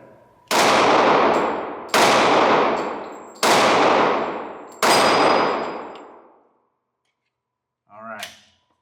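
Four loud, sharp gunshots from a .40 S&W Glock 27 pistol, evenly spaced about a second and a half apart, each ringing out with a decaying tail, followed after a pause by a short voice.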